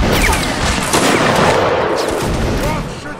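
Gunfire volley in a video game, a dense crackling fusillade of many rapid shots that stays loud and continuous throughout.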